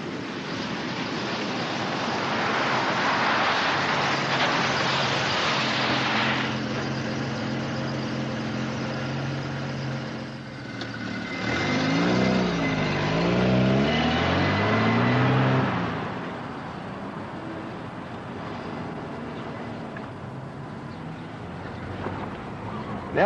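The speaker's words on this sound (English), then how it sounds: "this particular Commodore is powered by the 2850 six-cylinder engine." A 1980 Holden Commodore with the 2850 six-cylinder engine drives along, its engine note rising and falling through gear changes over steady road noise, swelling strongly midway before settling into a quieter cruise.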